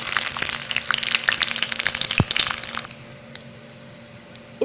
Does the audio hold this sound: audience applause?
no